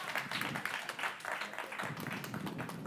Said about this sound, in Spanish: Denle un aplauso al Señor en esta mañana con este calor.